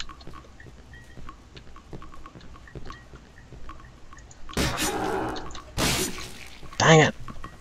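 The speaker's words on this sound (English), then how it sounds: "That dripping." Water drips at a slow, irregular pace in the horror video game Cry of Fear. The drips are faint and sparse at first, then louder splashy bursts and a sharp synthetic sound follow.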